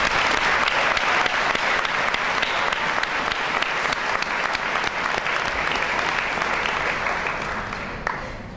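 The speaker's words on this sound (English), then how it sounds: "Round of applause." Loud, sustained applause fills a school graduation ceremony for parents and families, a dense wash of many hands clapping that holds steady before tapering slightly at the end.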